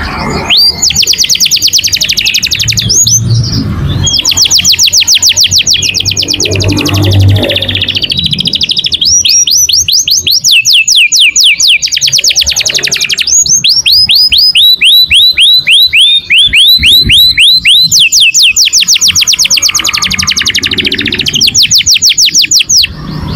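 A male canary sings loudly and continuously at close range, with long rapid trilled rolls and high chirping phrases repeating throughout, no voices.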